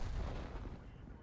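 A heavy, booming cannon shot from an IS-3 tank in a video game battle on the Ensk map, a single low rumbling blast that decays over about a second.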